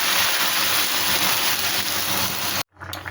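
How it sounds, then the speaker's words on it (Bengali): Hot water poured into a pan of frying prawn and yam curry, a dense, steady hiss and sizzle close up that runs for a couple of seconds before cutting off abruptly. "একটু গরম জল দিয়ে দিলাম।"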